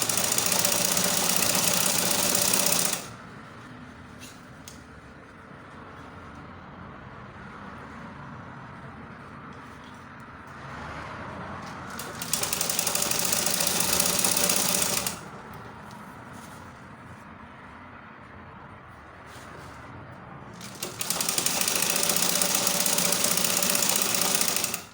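A sewing machine runs along a seam of a six-piece fully lined skirt in three sustained, steady bursts separated by quiet pauses, close and loud, with no talking.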